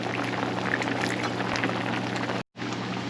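Gravy of flour, onion, vermouth and sherry bubbles over high heat in a pan, a steady close sizzling simmer that cuts out briefly near the end.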